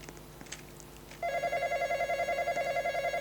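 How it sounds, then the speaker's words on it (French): Telephone rings inside a Roblox video game, a loud electronic trilling bell starting abruptly after a quiet moment and repeating in rapid, even pulses. "On m'appelle au téléphone."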